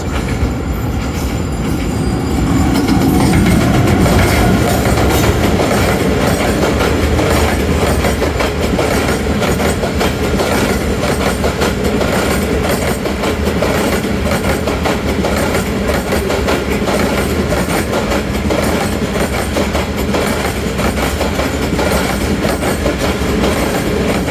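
Musa Pak railcar train, AGE-30, running from Multan to Lahore, heard from the cab: a loud, steady rumble of wheels on rails with continuous rhythmic clickety-clack and occasional squeals, no talk.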